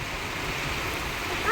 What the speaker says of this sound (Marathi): बघ ना, पाऊस येतोय कसा